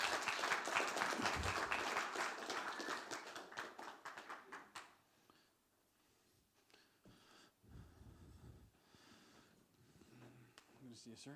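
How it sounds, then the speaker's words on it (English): An audience at a conference event in Brussels applauds loudly for about five seconds, then the clapping fades out and quiet room noise follows with brief shuffles and faint voices. "One more round of applause."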